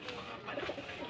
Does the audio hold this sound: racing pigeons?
yes